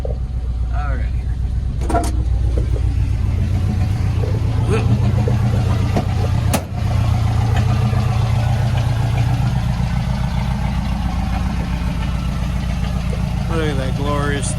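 An old, long-neglected Ford F250 truck engine idles steadily and loudly up close, a continuous low rumble with occasional revs, while people talk over it.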